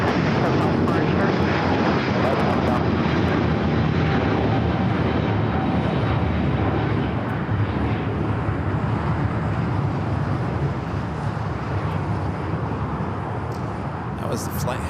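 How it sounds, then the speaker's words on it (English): An Airbus A350-900 airliner roars past at Los Angeles International Airport, a loud, dense, continuous engine rumble that fades slightly toward the end, with voices speaking underneath. "That was the flight heading back to Rome with that A350-900"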